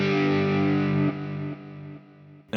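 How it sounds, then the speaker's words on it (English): An electric guitar played through a pushed preamp with Plethora X5 effects gives loud distorted chords, held and then stepped down in volume over a few seconds, with effects sitting back in the mix. "instead of the effects coming up with the distortion, they still stay in the back"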